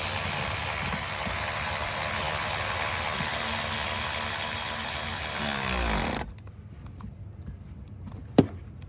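A power tool, probably a cordless ratchet, drives bolts on a 2.0T B8.5 engine while fitting a water pump and intake manifold, a loud continuous whirring buzz that winds down and cuts off, followed by a quiet pause and one sharp click.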